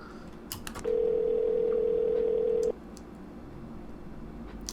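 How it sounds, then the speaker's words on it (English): A telephone in the video game Sally Face gives a steady electronic tone lasting about two seconds, loud and alone, then cuts off abruptly over faint room noise. "Pick up the phone, Larry"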